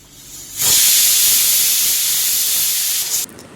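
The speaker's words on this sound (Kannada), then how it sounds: "ಕುಕ್ಕರ್ನ ಒಂದು 4 ವಿಸಿಲ್ ಕೂಗಿಸ್ಕೊಳ್ಬೇಕು" A pressure cooker cooking dal vents steam in one sustained loud hiss, starting abruptly, holding steady for under three seconds, then cutting off sharply, close by and heard alone.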